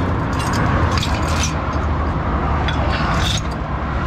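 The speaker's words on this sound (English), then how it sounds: "So you can hear the traffic blasting past." Traffic on the M40 motorway in the UK rushes past in a dense, continuous roar, with faint swells as vehicles go by close at hand.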